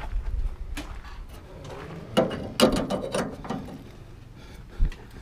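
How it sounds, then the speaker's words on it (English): An old-school gas pump being shut off after fueling: a handful of sharp metallic clunks and ratcheting clicks from the nozzle and lever, fairly close, with quiet gaps between. "Shut the pump off."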